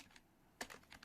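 Keys on a computer keyboard are tapped in a quick, faint burst of clicks, a few isolated presses followed by a denser cluster, close up and with no talking.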